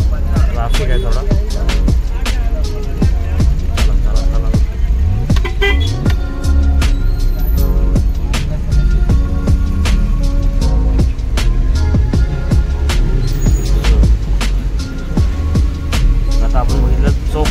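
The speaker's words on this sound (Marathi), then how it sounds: "ट्रॅफिक आहे थोडा." Continuous car and road noise on a drive near Malvan toward Tarkarli beach, a steady loud rumble with passing vehicle sounds and occasional clicks, with people talking over it.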